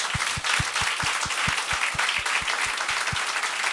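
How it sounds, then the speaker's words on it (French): An audience claps to welcome two guests onto a French-language talk show, a dense, steady wash of applause with a regular low thumping beat running through it, sustained and fairly loud. "j'aimerais ça qu'on leur donne bonne main d'applaudissement"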